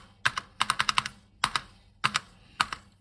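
Sticky keys pressed on a refurbished reed-switch keyboard of a Soviet Partner 01.01 computer, giving about a dozen sharp close clicks in uneven bursts with short gaps, each with a faint clatter.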